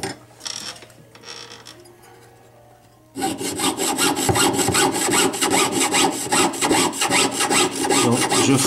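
Hand saw cutting through wood along a marked line, a steady rapid rhythm of loud rasping push-and-pull strokes close up, starting after a brief quiet pause with faint handling sounds.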